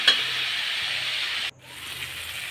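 Tomatoes and onions with turmeric sauté in a pan for a kovakkai poriyal, a steady close sizzle that cuts out abruptly partway, then resumes more softly.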